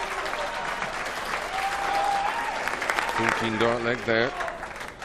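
A darts crowd at the 2016 BDO World Trophy breaks into warm, sustained applause after a won leg, with a commentator talking over the clapping.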